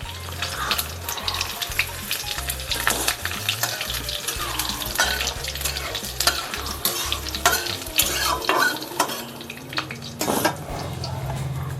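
Dried red chilies sizzling and frying in oil in a pan for Punjabi kadhi, with steady hiss and crackle, occasional stirring scrapes and faint utensil clinks throughout.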